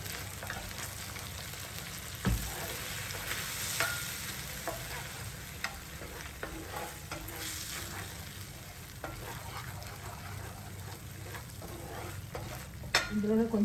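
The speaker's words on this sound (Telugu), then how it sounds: "కొద్దిగా వెనిగర్ వేస్తున్నానండి." Schezwan garlic shrimp frying in a pan just after a splash of vinegar, a steady dense sizzle with occasional stirring scrapes and utensil clinks, close up.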